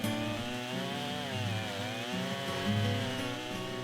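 Husqvarna chainsaw fitted with a ripping chain running steadily through a log in a portable chainsaw mill, a loud continuous close-up engine whine with slight pitch wavering as the cut proceeds.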